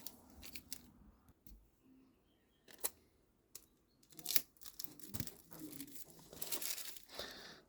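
Tape being pulled and pressed onto a homemade kite, faint close crinkling and tearing with a few sharp crackles, quiet and alone.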